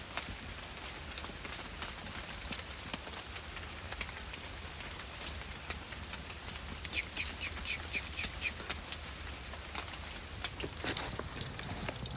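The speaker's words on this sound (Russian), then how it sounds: "Просто такой мелкий дождик моросит." Light drizzling rain patters faintly and continuously outdoors with scattered sharper drop ticks, growing a little denser toward the end.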